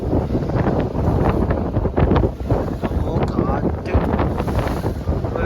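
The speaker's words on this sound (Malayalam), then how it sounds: "കാറ്റ് നല്ലപോലെ കൂടിക്കൊണ്ടിരിക്കുകയാണ്" Strong wind at sea buffets a fishing boat during net fishing, a loud continuous rush and roar with crackling bursts against the microphone, steady throughout.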